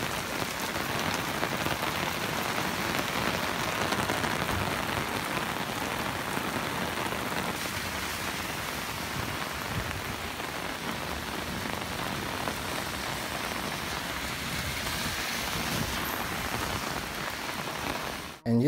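Heavy rain pours down steadily on a heavy-duty umbrella, a dense, even hiss of drops on surfaces that continues unbroken with no speech.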